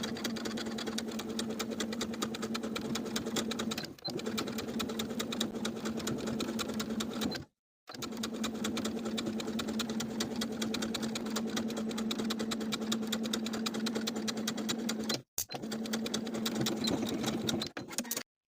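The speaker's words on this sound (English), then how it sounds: "Then we'll edge stitch that folded edge of the collar from one side" A sewing machine edge stitching the folded edge of a dress collar runs loud and close in a steady, rapid hum, with two brief stops, and no talk.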